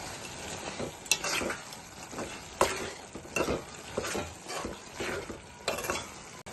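Ridge gourd cooks in oil in a pan, soft sizzling broken by repeated scraping stir strokes of a spoon, rhythmic and close, with no talking.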